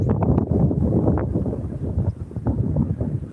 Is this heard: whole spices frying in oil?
no